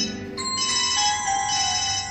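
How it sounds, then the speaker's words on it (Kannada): A phone ringtone rings late at night, a bright melodic electronic tone sounding steadily and fairly loud throughout, with no voices. "ಇದ್ದಕ್ಕಿದ್ದಂತೆ ನನ್ನ ಫೋನ್ ರಿಂಗ್ ಉಣಿಸಲಾರಂಭಿಸಿತು."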